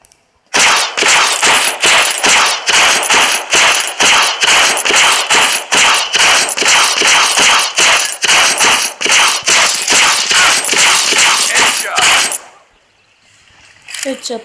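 Rapid automatic gunfire with unlimited ammo in the video game Blitz Brigade, a loud, dense stream of shots lasting about twelve seconds before cutting off abruptly.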